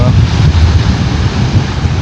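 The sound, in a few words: strong ocean waves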